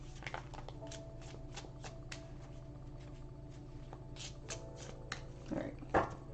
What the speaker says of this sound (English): Are you done shuffling?